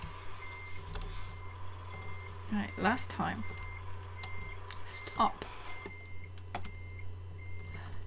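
A truck's reversing alarm beeps repeatedly at a regular pace in Euro Truck Simulator 2, while a player talks over it.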